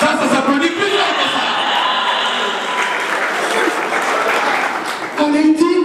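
Party crowd applauding and cheering, a loud, continuous roar of clapping mixed with whoops and shouting voices that runs throughout and swells again near the end.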